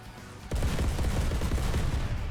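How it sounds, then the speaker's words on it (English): Fast-firing Dardo autocannon in the War Thunder video game, a loud rapid stream of shots that bursts in after a short quiet lead-in and keeps hammering steadily to the end. "Very, very strong, fast-firing cannon."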